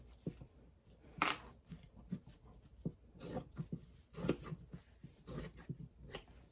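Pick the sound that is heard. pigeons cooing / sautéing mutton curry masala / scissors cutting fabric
scissors cutting fabric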